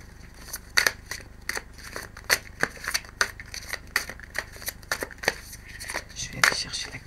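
Tarot cards being shuffled by hand: a string of crisp, papery snaps and riffles at an uneven rhythm, fairly close and moderately quiet, with a faint hum in the background.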